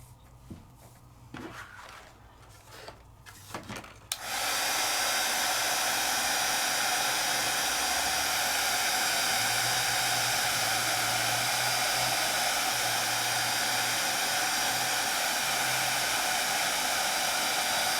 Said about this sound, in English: I move my heat tool.